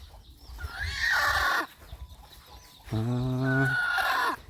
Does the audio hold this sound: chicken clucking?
yes